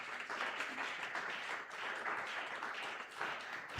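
A church congregation gathered for a Sunday worship and thanksgiving service applauds loudly and steadily, a dense wash of many clapping hands sustained throughout.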